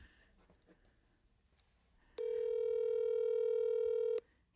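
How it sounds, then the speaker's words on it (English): A phone call being placed: after a faint quiet start, a loud, steady ringback or dial tone comes in and holds for about two seconds, then stops abruptly. "I'm just going to call him."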